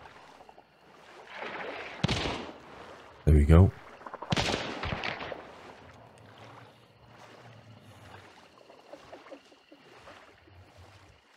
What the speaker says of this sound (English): So I definitely heard gunfire over here.